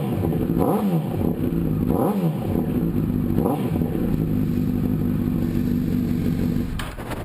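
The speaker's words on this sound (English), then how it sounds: "crank the bike up. Don't give it a big rev or anything." A sport motorcycle engine runs at a steady idle after being started, a continuous mid-pitched rumble that stays loud and close for the whole stretch, with a few slight swells early on, then eases near the end.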